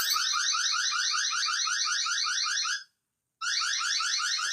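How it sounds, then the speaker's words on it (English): An electronic alarm blares in a rapid repeating warble, loud and steady, cutting out for about half a second before resuming, with no voices. "My alarm accidentally got turned on."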